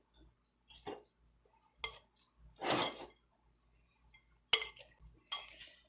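Sausage mixed in a cast iron pan, a few sharp metallic scrapes and clinks of a utensil against the iron, spaced apart with quiet between them.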